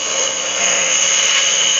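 Cedar wood being turned on a lathe to form a pot lid, giving a steady, continuous high whirring scrape of the tool on spinning wood, close and loud with no breaks.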